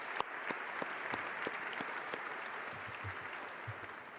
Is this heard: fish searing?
no